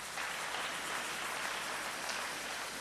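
A church congregation claps together in a dense, steady applause that sounds like heavy rain and holds evenly throughout without any voices on top.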